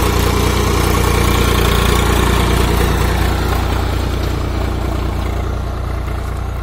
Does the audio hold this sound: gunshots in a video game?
no